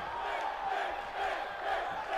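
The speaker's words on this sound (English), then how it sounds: "The crowd chanting for Finn Balor." A wrestling arena crowd in WWE 2K18 chants steadily for Finn Balor during his SmackDown match with Sami Zayn, a dense, continuous roar with a rhythmic pulse, loud and sustained.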